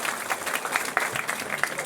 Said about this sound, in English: Give Riley a round of applause for coming up here.